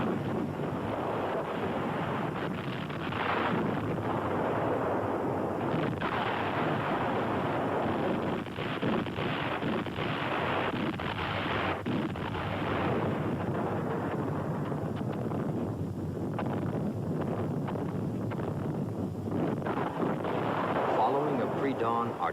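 Artillery barrage opening Operation Barbarossa on the Russian border, June 22, 1941: a dense, continuous roar of rumbling blasts and broadband noise, loud and unbroken throughout with no clear gaps.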